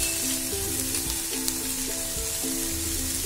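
Spice masala with tomato pieces, salt and Kashmiri red chilli powder sizzles loudly and evenly as it is mixed in a pan, with a simple tune playing underneath.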